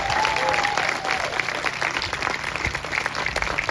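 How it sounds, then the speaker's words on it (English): A room full of people at an elementary school Blue Ribbon ceremony applauds the school team, a steady wash of many hands clapping at once, fairly loud and continuous throughout. "Round of applause for our Alaiedon team"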